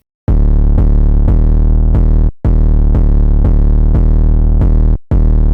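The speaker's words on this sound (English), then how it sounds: "So this is what the first 808 sounds like." A Behemoth 808 bass from the Terminus 808 kit, programmed in FL Studio, plays a run of heavy sustained sub-bass notes with sharp attacks. Each note lasts about half a second, with two short gaps, and the bass sounds alone and loud.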